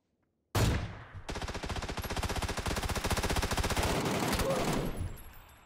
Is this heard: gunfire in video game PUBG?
yes